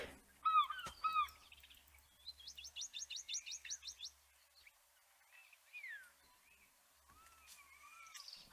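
Several bird calls and chirps from The WILDS video game, a pair of sharp chirps followed by a rapid trilled run and softer scattered tweets, fairly quiet over a calm background.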